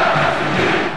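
Football crowd in the stands erupting after a Botafogo win, a dense roaring cheer that stays loud throughout and fades slightly at the very end.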